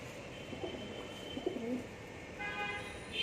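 Pigeons coo softly in a few short low calls over steady background noise, with a brief higher chirp-like tone near the end.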